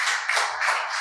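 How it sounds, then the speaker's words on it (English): A short burst of clapping from a small group at a talk, brisk and even, a soft rhythmic patter of hands heard up close. "Give him applause."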